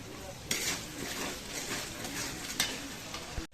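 Whole garam masala and bay leaves fry in a pan with a soft continuous sizzle, broken by a few sharp clinks of a utensil against the pan.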